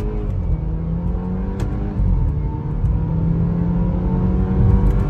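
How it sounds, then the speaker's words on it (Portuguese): BMW 320i with a downpipe and minimal muffler, revving as heard from inside the cabin with the windows closed: a steady, muffled engine drone that rises in pitch and load partway through, continuous and fairly loud, with no talk. "vamos dar mais um acelero."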